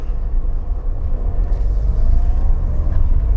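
A Mercedes 220E W124 sedan engine runs as a low, steady rumble that stays close and even, with no talking.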